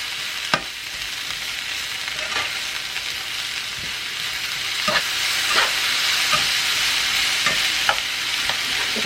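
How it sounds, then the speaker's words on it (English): Food sizzling steadily in a pan, a bright continuous frying hiss with scattered utensil clicks and scrapes at irregular intervals, growing slightly louder toward the end, no talk. "We're just going to let this cook for a few minutes"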